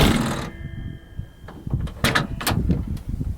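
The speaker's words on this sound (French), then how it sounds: "La poignée de porte, ça s'ouvre comme ça." A Ford Mustang GT500 Eleanor door is handled and opened, a soft latch-and-panel movement followed by a few sharper clicks and knocks, close and moderately loud.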